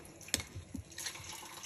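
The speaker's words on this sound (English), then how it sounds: "So, turn that water off, please." Tap water splashes into a sink, heard as a few faint, brief drips and spatters in a quiet room.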